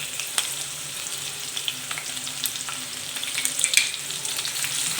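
Green chili and garlic sautéing in ghee and hot oil for masala pav, a close, crackling sizzle with frequent sharp pops and spatters and a few stirring clicks, no talk.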